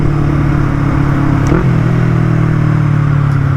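A Yamaha MT-03 motorcycle fitted with a full Akrapovic exhaust drones steadily while riding, its low engine note shifting in pitch midway as gears change, loud and close over wind rush.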